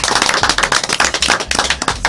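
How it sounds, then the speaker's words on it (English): A television studio audience claps close and loud in a brief, crisp burst of dense, sharp hand claps lasting about two seconds. "Let's give him a round of applause, please."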